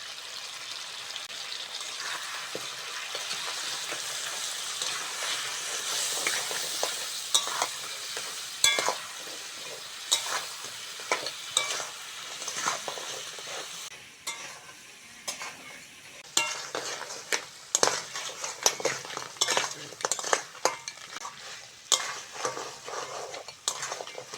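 Crab pieces fry with onion and spices in a village kitchen, a continuous close sizzle punctuated by frequent metal spatula scrapes and clinks against the pan as it is stirred, with no voices.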